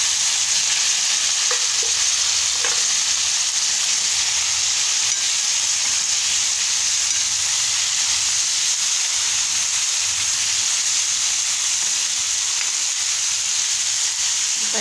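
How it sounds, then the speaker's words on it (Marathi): Chopped cucumbers hitting hot oil spiced with cumin, red chilli powder and turmeric, hissing loudly in a steady sizzle while being stirred, with faint scraping of the spoon throughout. "आता आपण ह्या ज्या ककड्या चिरून घेतलेल्या त्या ककड्या टाकून घेऊ"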